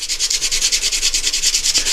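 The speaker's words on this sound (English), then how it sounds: "now all I have to do is some sanding to level it all out" Rapid rhythmic sanding strokes with 80-grit sandpaper on epoxy over turned wood scrape back and forth steadily at close range, a dense raspy rubbing with no talking.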